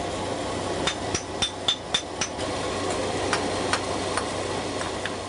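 A series of sharp knocking strikes, about a dozen, spaced irregularly over steady background hum and noise, as a small piece of inkstone with a hidden flaw is broken.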